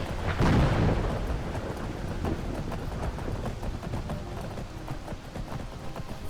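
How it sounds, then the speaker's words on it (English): Storm in the game Skyrim: a low rumble of thunder swells loud near the start and then fades into steady rain, with soft rhythmic hoof-like steps continuing underneath throughout. "That lightning was very close."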